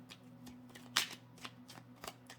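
Making Magic oracle cards shuffled by hand up close, a quiet series of soft riffling flicks and papery snaps with one louder burst, over a faint steady hum.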